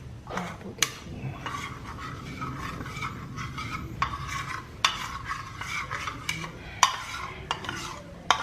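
Chop suey ingredients being stirred and mixed in a pan, a utensil scraping and clinking against the metal in an irregular rhythm with sharp taps now and then over a faint sizzle, close and fairly quiet, with no talking.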